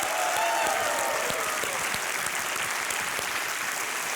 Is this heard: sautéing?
no